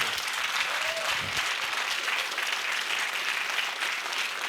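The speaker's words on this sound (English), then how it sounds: "So a round of applause for our music teachers" A concert hall audience at a school spring music concert applauds the music teachers, broad, even clapping from many people that carries on steadily from start to finish, heard from a slight distance.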